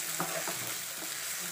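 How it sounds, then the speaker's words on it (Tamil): Onion and garam masala mixture being sautéed in a pan for an egg fry dosa filling, giving a steady, soft sizzle with light scraping of the stirring spoon, close and fairly quiet, with no talk. "இப்போ இதில் எல்லாத்தையும் ஒன்றா சேர்த்து விட்டு கலந்துட்டு வதக்கிக்கலாம்"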